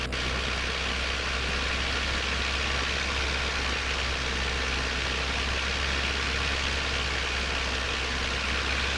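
A light aircraft's piston engine runs up for a magneto check, a steady, loud droning hum that holds evenly throughout with no talk over it.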